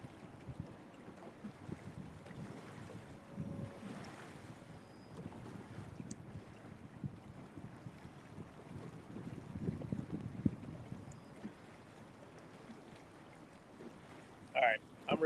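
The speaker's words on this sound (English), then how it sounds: "Big barge coming up the river" A barge engine pushes up the Ohio River, a faint, distant low drone mixed with wind buffeting, soft voices nearby, and a couple of sharp clicks near the end.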